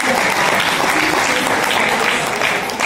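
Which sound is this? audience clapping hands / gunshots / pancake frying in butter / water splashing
audience clapping hands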